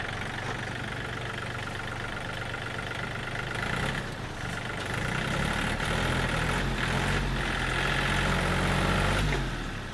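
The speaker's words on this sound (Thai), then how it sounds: "เป็นเครื่องยนต์สามสูบค่ะ" A used Yanmar 39 hp four-wheel-drive farm tractor with a three-cylinder engine idles steadily, close and even, with a smooth low rumble that rises slightly in intensity partway through; no one speaks.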